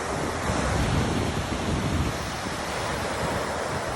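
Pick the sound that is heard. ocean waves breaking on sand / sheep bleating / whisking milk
ocean waves breaking on sand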